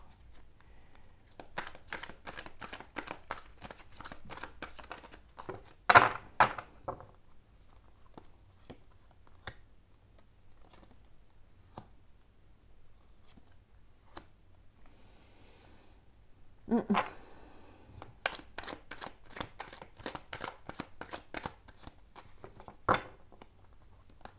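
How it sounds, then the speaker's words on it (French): Oracle cards being handled for a reading: soft, dry shuffling and flicking of cards in quiet, irregular bursts, close and faint, with two denser clusters of riffling. "On va prendre juste 2-3 petites cartes de l'oracle des Météores."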